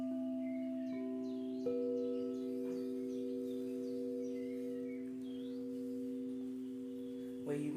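Singing bowls ringing during a guided meditation, several sustained pure tones layered and overlapping, steady and resonant, with new strikes adding higher tones, faint bird chirps in the background and a brief soft knock near the end.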